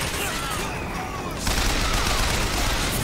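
Sustained gunfire rains down on the player in Bioshock Infinite, a dense rattling fusillade that steps up louder halfway through and continues without a break.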